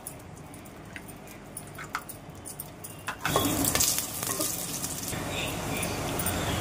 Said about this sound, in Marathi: तेल गरम झाले. आता मी कांदा टाकते.